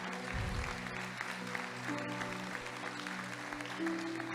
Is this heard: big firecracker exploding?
no